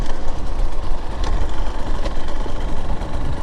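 A Husqvarna TE 150 TBI dirt bike engine runs steadily while riding in fourth gear, a loud, continuous low rumble with a constant broadband roar and no talking.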